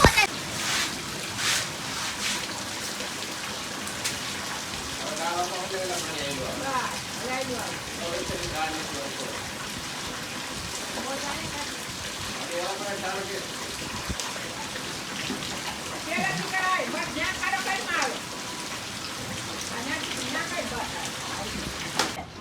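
Heavy storm rain pours down in a downpour, a dense steady patter and splash that runs throughout, with voices talking faintly over it.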